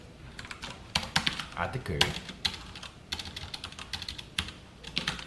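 Java ArrayList code is typed on a computer keyboard, a quick, uneven run of close keystroke clicks in short bursts and pauses, with a voice faintly present.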